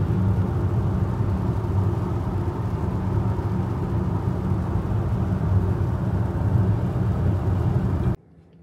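An Xpeng P7 Performance electric car pulls away, its steady, dense road and motor rumble loud and continuous before cutting off abruptly near the end.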